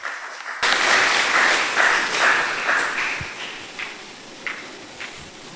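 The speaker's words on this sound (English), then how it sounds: "with a round of applause, please let's welcome the Greater Accra Regional Director of Agriculture, Mr. Eric Asemeni." Audience at an agricultural industrialization conference in Ghana breaks into applause for the Greater Accra Regional Director of Agriculture. The clapping starts abruptly, fills the room, then thins to scattered claps and a few taps as it fades.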